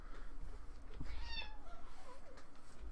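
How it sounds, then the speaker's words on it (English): A cat, a kitty, gives a few quiet, drawn-out meows close by, rising and falling over a low background hum, with no one speaking. "It's a kitty."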